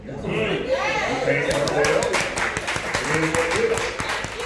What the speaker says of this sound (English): A lot of hands started clapping.